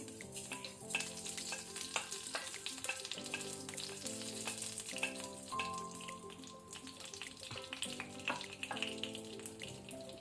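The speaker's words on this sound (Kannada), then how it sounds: "ಎಣ್ಣೆ ಬಿಸಿ ಆದ ನಂತರ ಸಾಸಿವೆ ಹಾಕೋಣ, ಮಸ್ಟರ್ಡ್ ಸೀಡ್ಸ್ ಕ್ರ್ಯಾಕ್ಲ್ ಆಗಲಿ." Mustard seeds crackle and pop in hot oil over a low flame while preparing Mangalorean crab curry, a steady close sizzle with scattered sharp snaps and faint stirring throughout, no voices.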